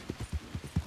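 A horse in a ranch roleplay video game walks with a steady clip-clop, about six dull hoof strikes close by at an even pace, with no voices.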